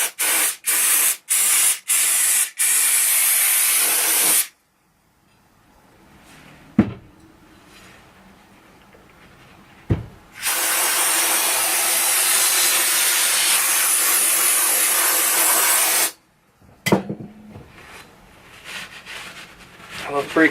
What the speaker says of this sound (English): I'm going to spray this with brake cleaner